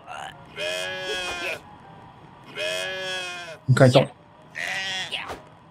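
Repeated loud bleats from a sheep in the video game Just Die Already, three long wavering calls spaced a second or so apart, with a short burst of speech between them.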